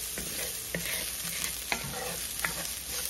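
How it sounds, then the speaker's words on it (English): Garlic frying in a skillet gives a constant bright sizzle, with soft stirring scrapes and taps at irregular intervals throughout; no voices. "First thing, I'm starting off with my garlic. Let them get a kind of golden cook."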